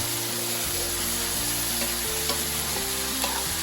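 Tomatoes and spices fry in a pan for a West Bengali fish curry, a loud and steady close sizzle that runs unbroken throughout.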